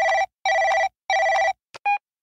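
A telephone rings loudly and close with three long electronic trills at a steady rhythm, followed by a brief click and a short tone, with no voices.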